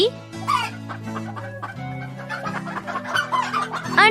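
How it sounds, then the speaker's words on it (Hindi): A chicken clucks repeatedly in short, nasal, pitched bursts, close and clear, with a steady musical tone sustained underneath. "मुर्गी"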